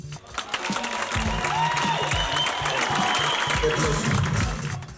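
A crowd at a televised comedy awards show applauds and cheers loudly and continuously as a comic collects Comic of the Year, with an announcer's voice and music running over it.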